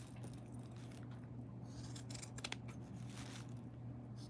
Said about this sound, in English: Okay, on this side, I'm just cutting up.